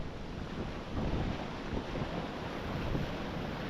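Ocean waves rolling onto the coast of Portugal, a broad low rumble of surf blended with wind buffeting the microphone, steady and fairly loud with gentle swells in intensity.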